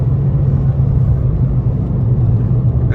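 A sports car engine drones steadily under load while climbing a hill, heard from inside the cabin as a loud, constant low rumble with road noise and no speech.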